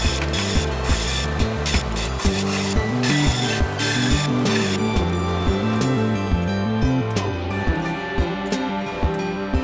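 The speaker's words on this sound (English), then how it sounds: "I take it over to my super cheapo Harbor Freight belt sander and round over every edge on the box" A cheap Harbor Freight belt sander runs continuously and loudly, rounding over the edges of a wooden box with a steady rasping grind and recurring pulses, and no voices.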